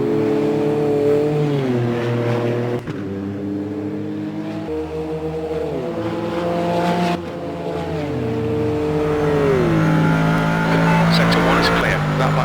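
Corvette GT3 race car engine in rFactor 2 at the Red Bull Ring, a loud continuous roar rising through the gears with sharp drops at each shift and deeper downshifts, a voice talking over it.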